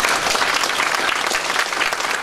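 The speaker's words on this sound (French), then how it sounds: "On peut l'applaudir." Steady applause from a convention audience at Comic-Con Paris, dense, continuous clapping filling the hall for about two seconds with no pauses.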